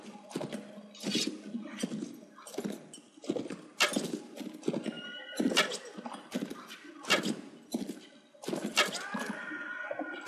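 Horse hooves clatter in quick, uneven bursts during a mounted battle in Mount & Blade, in the Rise of the Khans Mongolian war, with sharp thuds and impacts mixed in. The sounds are loud and busy throughout.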